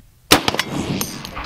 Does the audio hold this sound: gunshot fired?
yes